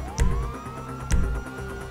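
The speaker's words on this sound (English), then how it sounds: "you hear that? Sirens." A police siren wails with a rising tone, fairly distant, while two dull thumps sound nearby.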